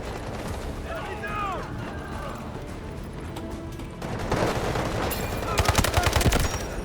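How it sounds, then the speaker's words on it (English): An artillery barrage and gunfire rattle through the video game Delta Force: steady battle noise first, then denser, louder bursts of rapid shots and blasts toward the end, with background voices. "Artillery barrage ready."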